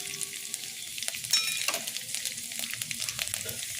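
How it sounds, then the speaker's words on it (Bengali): Grated coconut browns in hot oil in a pan for a vegetarian banana-flower curry, giving a continuous close crackling sizzle with small spatters and occasional stirring, quiet and steady, with no talking. "নারকেলটা একটু লাল লাল করে ভাজা হয়ে গেলে"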